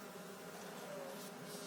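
Bees buzzing at a hive: a faint, steady, dense insect drone that runs unbroken through the whole short stretch, with no voices over it.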